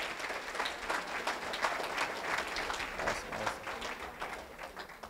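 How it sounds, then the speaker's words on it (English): Guests at a high school football banquet give the Booster Club a round of applause: an even, continuous patter of many hands clapping in a room, moderately loud and tapering slightly at the close. "So, Booster Club, we'll give you all a round of applause for that."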